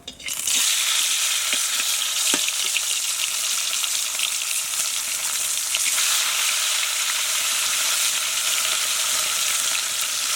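Fish fries in hot mustard oil in a wok, giving a loud, steady, close hiss and sizzle that continues unbroken, with a few faint clinks and no talking.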